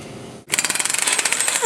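Hammer strikes on a vehicle's steering spindle to knock it off the ball joint stud: after a brief quiet start, a quick run of sharp, loud metallic blows repeats in a fast, steady rhythm close by.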